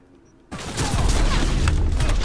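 Gunfire from a shotgun in the video game Cyberpunk 2077 breaks in after half a second of near silence, then continues as loud, dense, overlapping blasts and rumbling impacts that keep going to the end.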